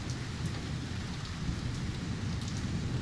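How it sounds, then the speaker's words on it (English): Steady rain falls on hard surfaces while thunder rolls low and continuous beneath it during a storm in Bath, a dense, even wash of sound with no speech. "Listen to it, just a continual roll of thunder."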